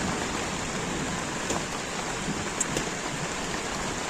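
First rain of the season falling in a village in Devgad, a steady dense hiss of rainfall on surfaces, constant and fairly close, with a few faint tapping drops.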